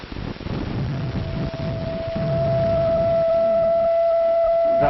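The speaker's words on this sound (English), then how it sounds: "Make a sound on this ocarina, Jimmy." Ocarina note rising out of a low, rumbling noisy background, a clear pure tone starting softly and growing steadier and a bit louder over several seconds, with film-soundtrack hiss underneath.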